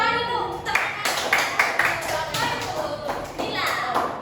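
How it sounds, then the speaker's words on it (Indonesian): Clapping in a classroom, rhythmic hand claps from a group of children mixed with their voices and chatter, close and fairly loud throughout. "Oke, ada tepuk tangan dulu."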